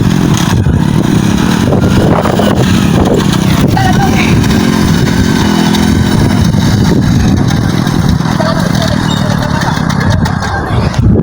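A motorcycle is being hauled out of deep mud, its engine running continuously and loudly at a steady, rough drone. Voices talk over the engine throughout.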